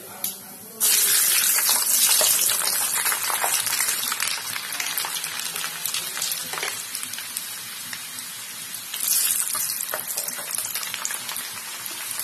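Whole garlic cloves and panch phoron spices fry in hot oil for a chilli pickle. A loud, dense sizzle erupts suddenly and holds steady at close range, swelling again partway through.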